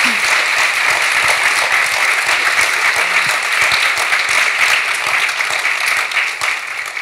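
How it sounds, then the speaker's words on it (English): An audience at an architecture talk applauding, dense sustained clapping from many hands that fills the room steadily and fades slightly at the end. "I'm so glad you clapped"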